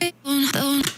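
Short chopped vocal melody with no effects, clipped sung syllables jumping between a few pitched notes in quick succession, close and clear.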